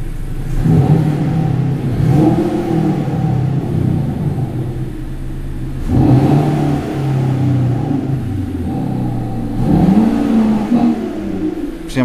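A Honda Civic 1.5 VTEC with an active sound system pipes a synthetic sporty engine note into the cabin, a steady low droning rumble that swells in three repeated rev-like surges and then eases back.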